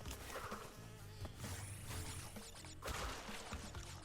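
Bees buzzing in the Crash Bandicoot 2 video game, a steady insect drone over busy game music and effects that continues through the whole stretch.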